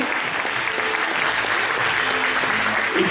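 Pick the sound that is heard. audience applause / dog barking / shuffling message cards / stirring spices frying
audience applause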